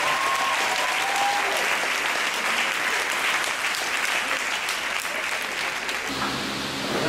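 A church congregation at a Sunday worship service applauding loudly and steadily throughout, a dense, continuous wash of clapping with no talk over it.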